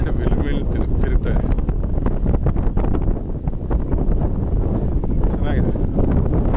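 Strong wind blowing outdoors on a walk in Amsterdam, a loud continuous roar buffeting the microphone for several seconds, while people talk over it.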